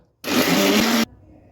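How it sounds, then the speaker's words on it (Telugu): An electric mixer grinder whirs loudly for about a second as it grinds dried red chillies, lentils and spices, starting abruptly and cutting off just as sharply. "మిక్సీ పట్టుకోవాలి"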